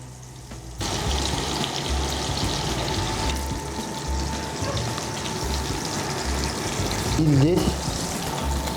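Pickled artichokes sizzle steadily in butter in a hot pan, a continuous close frying hiss with a brief word spoken over it.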